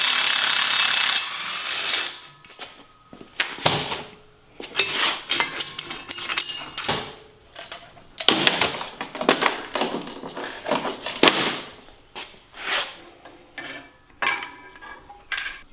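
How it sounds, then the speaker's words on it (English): Metallic clanks, scrapes and ratcheting clicks in irregular bursts as the helix is worked out of a Ski-Doo Gen 5 turbo snowmobile clutch, close by with pauses between handling sounds. "Now we can take the helix out."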